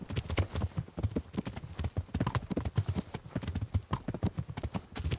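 Several horses carry riders out on patrol in Kingdom Come: Deliverance, their hooves clip-clopping in a steady, fast, overlapping rhythm that stays close and clear throughout, with no one speaking.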